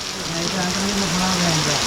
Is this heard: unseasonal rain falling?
yes